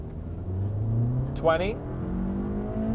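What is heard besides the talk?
2020 Toyota RAV4 TRD Off Road accelerating from standstill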